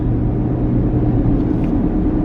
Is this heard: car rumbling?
yes